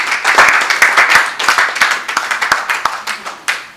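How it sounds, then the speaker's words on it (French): Close, loud hand clapping from an audience at a scholarship award ceremony in Kinshasa, with sharp individual claps over a dense burst of applause that slowly thins out. "Sous vos applaudissements"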